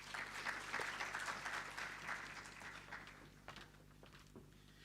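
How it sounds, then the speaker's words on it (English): An audience at a university health sciences research day claps, a dense burst of applause that gradually thins out and fades. "Prof, they clapped again"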